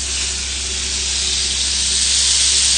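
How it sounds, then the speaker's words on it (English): Butter and sugar sizzle steadily in a pan over low heat, a continuous close, loud frying hiss with no talking. "you can hear my pan sizzling away"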